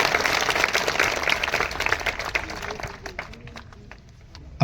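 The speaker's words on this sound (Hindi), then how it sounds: "एक बार जोरदार तालियां" Applause at a school morning assembly for a student of the year, full crowd clapping at first that thins to scattered individual claps and fades out toward the end.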